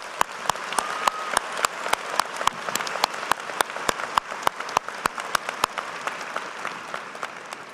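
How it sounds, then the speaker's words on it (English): Audience applause at a Smeal College of Business commencement ceremony, steady indoor clapping from a sizable crowd with sharp individual claps standing out, continuing evenly throughout. "Let's give her a round of applause."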